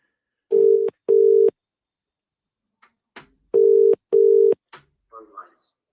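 Telephone dial tone heard during a radio phone-in call, two steady beeping pairs separated by a pause, with brief clicks and faint line noise between them and no talk.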